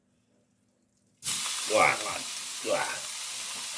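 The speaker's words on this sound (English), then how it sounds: "So now I'm going to add my turkey mince." Turkey mince hits hot oil in a pan, bursting into a loud, steady sizzle after a second of silence, with stirring scrapes swelling twice over the frying and a brief spoken word.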